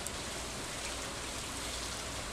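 Rain falls in the video game Stardew Valley, a soft, steady hiss of patter and drops that stays even and fairly quiet throughout, with no speech.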